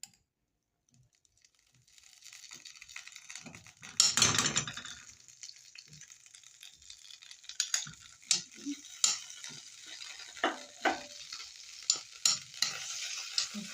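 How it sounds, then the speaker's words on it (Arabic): Butter sizzles as it melts and fries in a pan, with a loud burst of frying around the middle and repeated scraping stirs and clinks of a utensil against the pan afterward, close up and without talk. "وهنحط فيها الزبده، هنحمرها بالزبده زي ما انتم شايفين كده."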